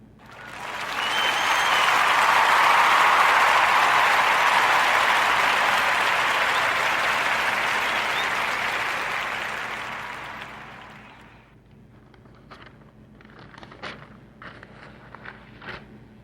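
A loud, sustained round of applause from a crowd swells quickly and holds for about ten seconds before fading, followed by scattered footsteps and light clatter.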